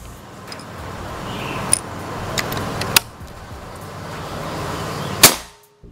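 Two sharp shots from a Ghost Warrior 360cc PCP air rifle, a few seconds apart, close and crisp, with the second one louder, plus smaller clicks and handling noises in between over a low background hiss.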